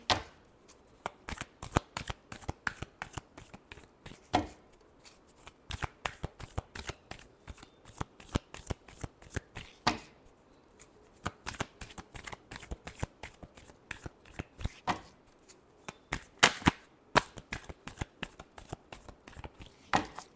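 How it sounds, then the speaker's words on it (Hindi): Tarot cards are shuffled by hand in quick, crisp riffling bursts, close and clear, repeating in uneven clusters with brief pauses between them. "Last shuffle."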